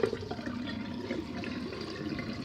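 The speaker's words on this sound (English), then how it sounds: "So I'm going to put some hot water." Hot water pours from a tap into a sink in a steady, even rush that stays close and moderately quiet throughout, with no voices.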